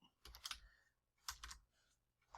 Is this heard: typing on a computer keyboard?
yes